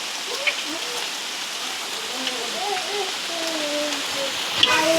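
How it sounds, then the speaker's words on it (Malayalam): Steady heavy rain pours outside a kitchen where oil is heating for frying, a dense continuous hiss with a few louder drips and faint birdsong over it. "നിങ്ങളുടെ നാട്ടിലൊക്കെ ഇങ്ങനെ മഴ പെയ്യുന്നുണ്ടോ?"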